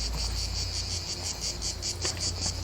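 Deafening cicadas drone in a loud, continuous high buzz with a slight pulsing rhythm, dense and close, with no voices over it.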